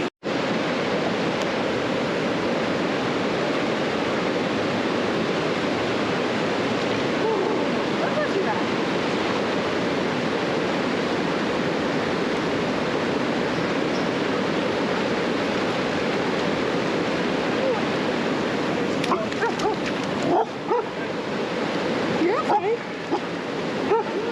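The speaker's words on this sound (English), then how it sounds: "We're up here on the river, just took a dip in a place I've always wanted to get in the water. It's just nice, smooth water." Steady broadband rush of river water flowing through a smooth stretch in the mountains, continuous and close for the whole stretch, with a few brief splashy disturbances near the end.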